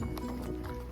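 Horse hooves clip-clop at a steady walking pace on a trail ride at Lincoln Mountain Open Space, soft, irregular thuds under a constant outdoor rumble.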